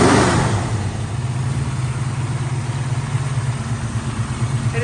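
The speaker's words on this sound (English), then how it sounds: "Go ahead and rev it for me." A 1968 Mercury Cougar on a cold start gives a quick loud rev at the start, then falls back to a steady, rumbling idle that continues close by.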